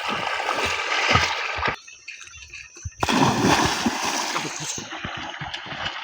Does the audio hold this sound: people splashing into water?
yes